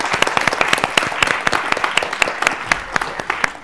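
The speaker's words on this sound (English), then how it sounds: "we really need to give applause to Tautvydas and Dignas" A student conference audience claps in a dense, lively round of applause, many sharp hand claps overlapping at a fairly steady level throughout, with no speech over it.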